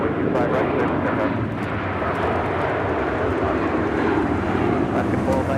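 Airplane taking off at LAX airport: a loud, continuous broadband jet roar that stays steady the whole time, with faint radio-style voices mixed in.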